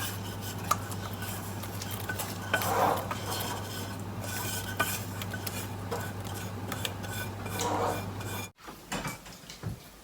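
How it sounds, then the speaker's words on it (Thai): Taiwanese pandan cake batter is whisked fast in a bowl, a soft, steady scraping and light clinking over a constant low hum that stops abruptly near the end. "คนให้เร็วที่สุด"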